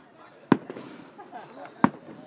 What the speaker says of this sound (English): 5 of the same fireworks.